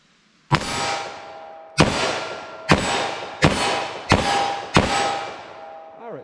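A .327 Federal handgun fires into ballistic gel, six sharp loud shots at a steady pace of roughly one per second, each with a short ringing decay, with no talking.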